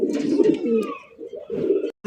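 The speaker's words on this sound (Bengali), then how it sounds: "ইন্ডিয়ান মুম্বাই কবুতর সাইজ দেখেন কোয়ালিটি দেখেন" Pigeons of the Indian Mumbai breed coo in a close, steady low rumble lasting nearly the whole moment, with a brief pause before the cooing picks up again.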